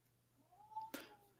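A pet cat lets out a single drawn-out meow in a quiet indoor room, rising then falling, followed by a sharp noise; faint and alone, with a steady low hum in the background.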